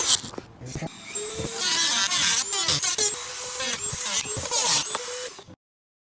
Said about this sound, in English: Safety goggles on, Dremel in hand, and here we go.